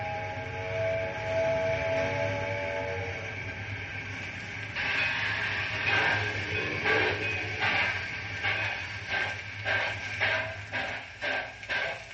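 A train starts moving with a steady mechanical drone, then rhythmic clacking chuffs grow and repeat as it pulls away.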